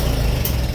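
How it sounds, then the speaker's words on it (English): An antique farm tractor engine idles with a steady low rumble, close and loud, while it is being shut off. "Turn the tractor off."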